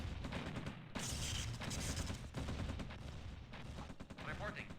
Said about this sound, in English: Medium tanks just shoot a lot faster now.